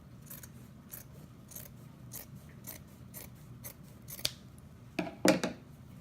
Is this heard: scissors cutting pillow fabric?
yes